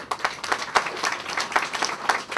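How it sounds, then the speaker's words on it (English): Small group at a ribbon-cutting ceremony gives a short round of applause, moderately loud scattered claps forming a brief, uneven patter with distinct individual hand strikes. "Let's give him a round of applause."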